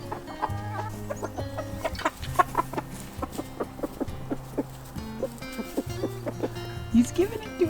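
Homestead hens and a rooster clucking close by in a chicken coop, with many short, irregular clucks and calls, while people talk over them.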